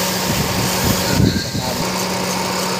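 A Toyota Altis with a 3C-FE engine idles up close under the open hood, a steady mechanical hum with a brief louder burst midway.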